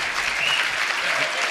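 Convention audience applauding a speaker, a brief, steady, even spread of many hands clapping at moderate loudness.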